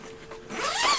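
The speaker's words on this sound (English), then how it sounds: "This door has this large screen that you can zip in place." A zip-in door screen on a 2021 Winnebago Travato 59GL camper being zipped shut, one quick rising zipper rasp close by that grows louder toward the end.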